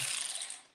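A ratchet loosening an ignition coil pack bolt on a 2011 Nissan Maxima gives a quick, faint, close clicking whir that fades out.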